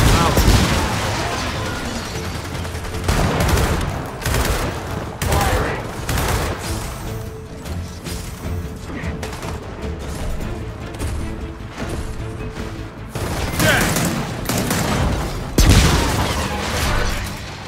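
Gunfire in Gears of War 4, repeated loud bursts of rifle fire and impacts in rolling volleys across the whole stretch, with brief lulls between exchanges.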